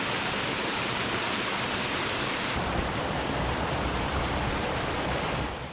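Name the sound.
Bridal Veil Falls waterfall rushing into Spearfish Creek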